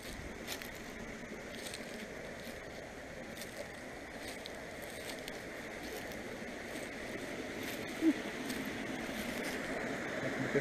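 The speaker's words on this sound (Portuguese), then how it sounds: "Aqui a ribeirinha, aqui ao meu lado." A small stream runs beside a walking path, giving a steady, soft, broadband rush of flowing water throughout, fairly close and unbroken, with no talk over it.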